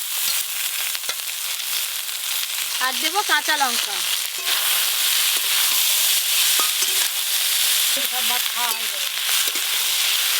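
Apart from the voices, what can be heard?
frying and stirring dhenki greens with aubergine and green chilli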